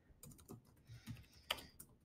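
Quiet typing on a computer keyboard while composing an email template: a few irregular, soft clicking keystrokes, faint and close, with no talking.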